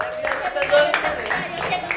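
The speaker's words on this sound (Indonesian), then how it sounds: "tepuk tangan sekali lagi untuk kelompok 1" Students applaud group 1 in a classroom, a steady patter of many hands clapping at moderate volume for about two seconds, with a voice faintly audible underneath.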